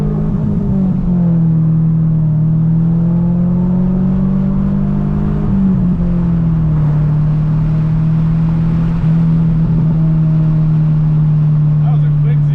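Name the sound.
Y2K car accelerating hard with exhaust pops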